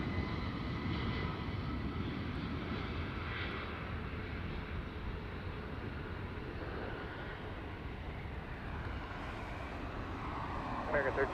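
Airliner at LAX rumbling steadily as it lines up on the runway, a constant broad engine drone heard from a distance with a slight swell near the end.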